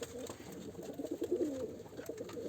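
Pigeons cooing in a coop at close range, a low rolling coo repeating over soft rustling and faint background noise, with no talk.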